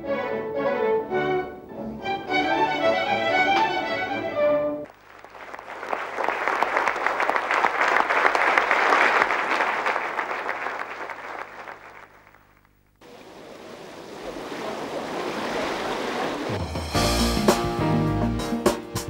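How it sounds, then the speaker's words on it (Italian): A concert audience gives long, warm applause for a chamber orchestra playing classical Venetian music, a dense, sustained wash of clapping that swells and fades, with orchestral music heard briefly before and after. "strappando un lunghissimo caloroso applauso."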